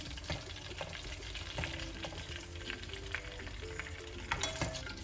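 Oil sizzles and crackles steadily as vegetables, including peppers, fry in a pan, with occasional scraping and clinking from stirring with a strainer.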